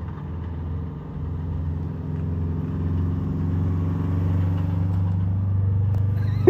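A car with a manual transmission gives a steady, low, rumbling engine drone that grows slightly louder as it drives, close by and without talk.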